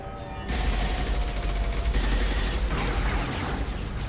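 Gunfire in the sci-fi shooter Mass Effect 2: a dense, continuous volley of rapid shots that erupts suddenly after a brief quiet moment and stays loud to the end.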